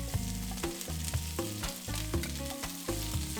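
Onion and garlic sauté in hot oil while the tomato soup base is started, a steady sizzle broken by regular scraping stirs of a spoon in the pan, close and continuous, with no talking.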